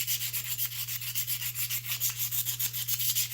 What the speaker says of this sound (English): sand them, take you some sandpaper